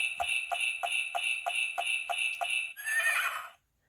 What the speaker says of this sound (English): Giddy up, Barney called to the frisky horse.